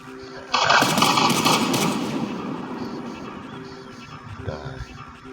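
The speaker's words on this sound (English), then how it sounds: "it's somebody shooting me" Video game gunfire on an Unreal Engine 4 map, a burst of close, loud shots that fades into a decaying echo, followed by a smaller report near the end.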